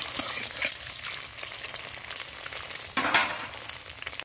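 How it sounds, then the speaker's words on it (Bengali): An egg fries in a pan with oil, giving a constant close crackle and hiss, broken by a brief louder burst of spitting partway through. "ডিমটা আমি ভাজা করছি।"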